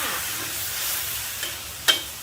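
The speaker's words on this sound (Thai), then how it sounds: "ไปแรงๆผัดเร็วๆค่ะ" Sesbania flowers are stir-fried with oyster sauce over high heat, giving a continuous broadband hiss and sizzle, with a couple of sharp metallic clinks near the end and no talking.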